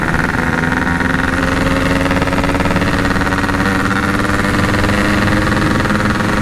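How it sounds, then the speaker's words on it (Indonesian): Loud aftermarket car exhaust on an idling engine, a steady close rumble with constant vibration and no revving, no voices. "Paling nyaring nih knalpot gua."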